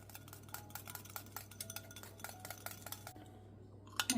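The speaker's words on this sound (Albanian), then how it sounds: "Përzijemi mirë." A spoon stirs egg yolk and yogurt together in a bowl, giving quiet, rapid, repeated clinks and taps against the dish with a steady low hum behind them.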